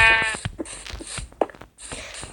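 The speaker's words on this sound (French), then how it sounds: "Il y a un mouton" Sheep bleating in a survival video game, a few wavering bleats close up with game sounds around them and no talk.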